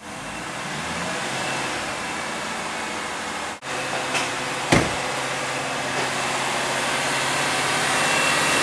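Ford Taurus engine held at a steady raised idle around 2,500 RPM, a continuous broadband hum with no talk, briefly dipping before resuming its constant drone.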